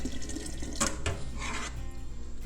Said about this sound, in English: I'm not gonna fill it up all the way because I don't need to waste that water, but I'm gonna fill it up about a 1/2 away.